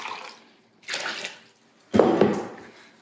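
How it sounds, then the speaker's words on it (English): Water pours in three short bursts into a mixing bowl, about three cups for bread dough, each splash close and clear with silent gaps between. "And then we're going to do 4 cups of water."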